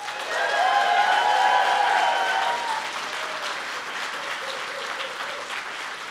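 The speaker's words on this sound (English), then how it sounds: "Please give an extra round of applause for all the amazing speakers." A full audience at a live-action roleplay conference claps for all the speakers, a loud dense wash of applause that swells at first, then eases to a steady softer patter with faint cheering early on.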